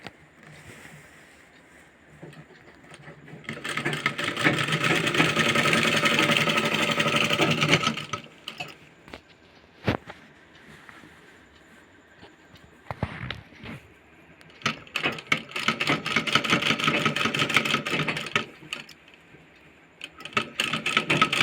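Sewing machine running a double seam along a petticoat waistband in steady stitching bursts, with two long runs separated by short pauses and clicks, close and moderately loud.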